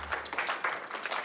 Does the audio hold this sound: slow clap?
yes